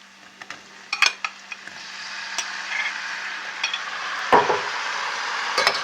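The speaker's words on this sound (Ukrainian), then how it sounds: "Додаємо гриби" Mushrooms sautéing in a pan with onion and garlic for a mushroom sauce, a soft steady sizzle broken by sharp utensil clinks and scrapes close by.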